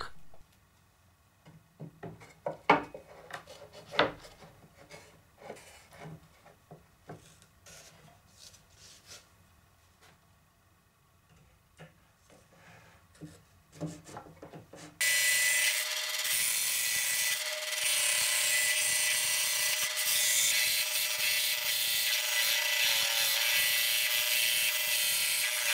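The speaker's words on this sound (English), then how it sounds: "Finally, I have to finish the body of the synthesizer. A little carpentry work." Carpentry on the wooden body of a homemade bass synthesizer: scattered knocks, rubs and scraping of tools on wood for about fifteen seconds, then a loud, steady power-tool whine running to the end.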